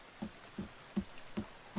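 Rain falls in the survival video game The Forest, soft patters and a few distinct drop taps at a steady pace, quiet and alone with no talk.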